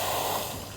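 The steam wand on a MEBASHI M-CCM2068 coffee machine gives a short, steady, breathy hiss, close and fairly loud, lasting under a second with no voices.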